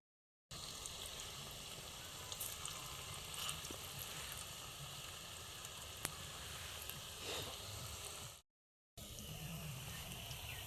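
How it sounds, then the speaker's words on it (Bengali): Marigold flower pakoras fry in hot oil with a steady, faint sizzling crackle that is broken by a brief gap near the end. "পকোড়াগুলো ভাজা হয়ে এসেছে"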